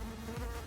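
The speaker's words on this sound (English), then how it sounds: "Comment below if you see the fly buzzing around me." A fly buzzes around during a beauty tutorial, with a steady close drone and a brief pitch sweep as it passes.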